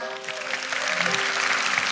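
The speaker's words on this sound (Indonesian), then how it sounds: "Yang percaya berikan tepuk tangan buat Tuhan ya" Steady applause fills a church youth worship service, a dense, even wash of clapping that holds for the whole stretch, with faint sustained musical tones underneath.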